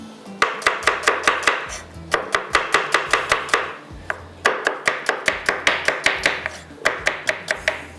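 Rapid knife chops on a cutting board slicing an onion, loud and close, in brisk bursts of even strokes with short pauses between runs, no voices.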